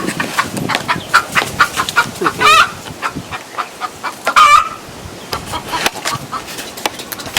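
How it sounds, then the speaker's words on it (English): A rooster in St. Croix crows in the morning, close and loud, giving two strained, wavering calls. Between them it gives short clucks and gravelly notes, and other fowl sound faintly behind it. "This is the noise that I woke up to this morning. Tell me what kind of rooster makes this kind of noise."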